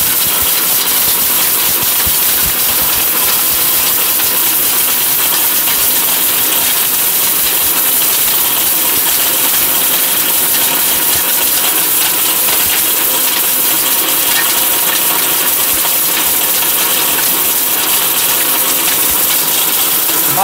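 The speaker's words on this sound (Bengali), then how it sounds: "এই 1600 আপনি হলুদ দিয়ে দিলাম, হলুদ হবে" A powerful 1600-watt electric blender grinds turmeric with a loud, steady, harsh whir and rattle that holds unbroken for about twenty seconds, with no voices.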